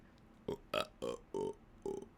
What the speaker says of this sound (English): I had no intention of doing musical burps.